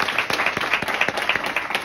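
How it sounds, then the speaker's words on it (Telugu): A prayer-meeting congregation claps together for a welcomed guest, a dense, steady patter of many hands with brief swells, fairly close and continuous with no talking. "మరొకసారి చప్పట్లు కూడా"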